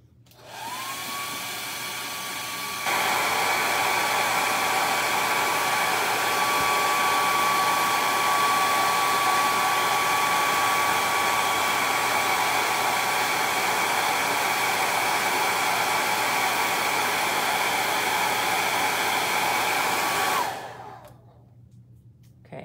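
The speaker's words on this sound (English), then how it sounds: "so I'm gonna quickly blow dry this so we can get to the layers of paint" A hair dryer blows steadily on a butterfly painting to dry the underpainting, a loud, constant whirring hum lasting nearly twenty seconds before it clicks off, with no talking.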